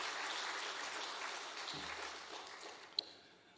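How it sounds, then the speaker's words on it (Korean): Sustained applause from a church congregation at a Wednesday night worship service, a dense steady wash of clapping that thins slightly toward the end, with one sharp louder clap near the close. "우리 하나님께 영광의 박수 한 번 더 올려드리겠습니다."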